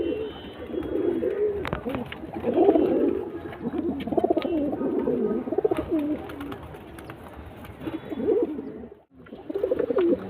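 Pigeons coo repeatedly in soft, rolling phrases close by, with scattered fluttering and faint chatter in the background throughout.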